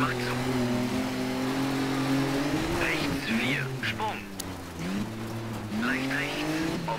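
A 400 hp rally car in Colin McRae Dirt 3 revs and slides on a slippery wet stage, its engine note rising and falling through gear changes with tire squeals, while a voice talks over the engine throughout.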